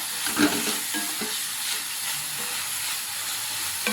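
Tomato and onion frying in a pan, a continuous hissing sizzle with a few soft stirring scrapes near the start and end, no talking.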